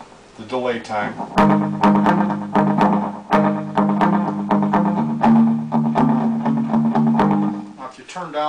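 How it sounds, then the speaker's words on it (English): Electric guitar through an amp using the bridge pickup in humbucker mode, with a little reverb and the echo delay turned up. Strummed chords ring out loud and close, with repeating echoes trailing each attack. "I'm going to turn up the echo a little bit,"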